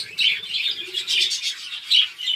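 Birds in a small backyard colony nesting in clay pots give repeated bright chirps and tweets in short bursts, fairly close and clear over a quiet background.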